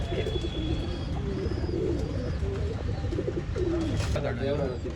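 Pigeons coo steadily throughout, with chirps and wingbeat-like bursts near the end, heard alongside someone talking in an outdoor setting.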